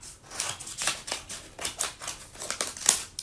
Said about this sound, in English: then you cut the seam at the top.